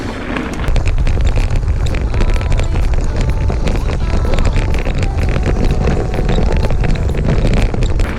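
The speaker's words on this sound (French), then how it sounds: "il y a du vent" Loud wind buffets the microphone continuously, roaring and crackling with gusts throughout.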